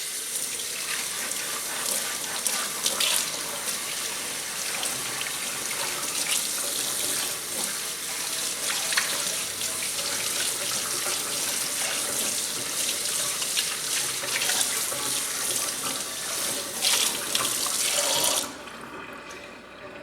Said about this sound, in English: I'm going to give it a good rinse.